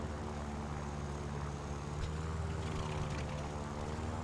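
A propeller aircraft engine from a combat flight game, an F2A fighter plane drawing closer, holds a steady, loud droning hum throughout with no voices over it.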